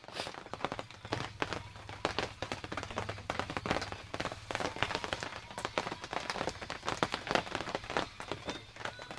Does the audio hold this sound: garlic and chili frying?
no